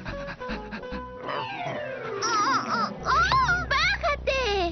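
Cartoon dog panting and yelping excitedly in a greeting, in a Latin American Spanish dub, with rapid squeaky whimpers and pants layered over music and a voice, loud and close.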